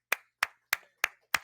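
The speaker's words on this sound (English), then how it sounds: "Let's give her a round of applause, please." Five crisp, evenly spaced handclaps from a single nearby pair of hands at a Saybrook University 50th anniversary gala, sharp and isolated with silence between each clap, rather than full crowd applause.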